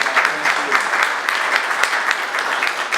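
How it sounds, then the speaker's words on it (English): Steady applause from a dinner audience at a Rotary Club installation dinner fills the room, dense and sustained throughout with a faint voice or two underneath. "give a round of applause"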